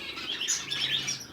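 Pet African finches chirp and tweet in a rapid, continuous stream of high, bright calls. They sound close and fairly loud, and no voice is heard.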